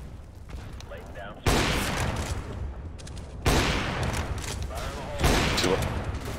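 Gunfire in the video game Counter-Strike: Global Offensive comes in three sudden loud bursts of rapid shots, each trailing off, with quieter game ambience and faint voices between them.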